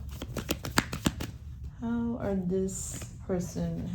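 Tarot cards being shuffled and handled by hand, a quick run of crisp riffling flicks and slaps up close, followed by a person talking.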